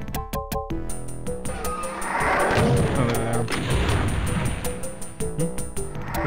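Enemy gunfire in Klooni, a Doom-clone shooter, on level E3M7: rapid blasts and booming shots pile up over game music and ambience, loud and dense for several seconds.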